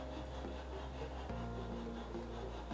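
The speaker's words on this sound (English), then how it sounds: "put your hand on the top of the cake to keep it secure, and you start sawing" Quiet, steady back-and-forth scraping of a knife sawing through a cake to level it, close by and alone.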